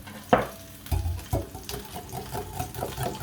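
Surimi and salmon quiche filling stirred in a bowl, with a series of wet sloshing strokes and utensil knocks in an irregular rhythm, close and fairly loud, no talking.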